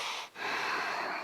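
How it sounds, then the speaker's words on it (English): Heavy breaths push out in forceful, airy rushes during a ring exercise workout at home, close to the mic, with a short pause between two exhalations. "Breathing."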